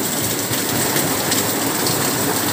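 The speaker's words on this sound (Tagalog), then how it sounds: "Umulan na malakas." Heavy rain pours down in a dense, steady roar that never lets up, loud and close and filling the whole scene, with no voices over it.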